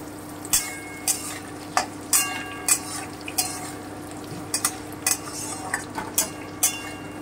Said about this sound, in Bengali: আমি হালকা করে একটু ভেজে নিচ্ছি।